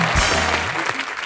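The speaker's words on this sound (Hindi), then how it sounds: "तालियां मारो भी।" Studio audience applause on a Comedy Nights With Kapil comedy show, a short burst of clapping blended with voices and a brief low tonal sound underneath.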